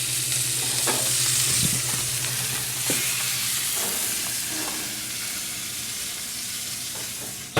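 A filet steak seasoned only with salt and pepper sears in a hot pan, giving a loud, steady sizzle and hiss with occasional light clinks and scrapes, no voices.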